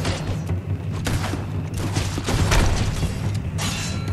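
Rifle fire in Fable 2: a series of several sharp booming shots spaced under a second apart over a dense, constant game background with a low hum.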